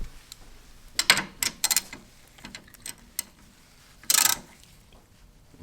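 A ratchet tightening a differential fill plug, a few quick bursts of close metallic clicking separated by pauses, with one louder burst near the end.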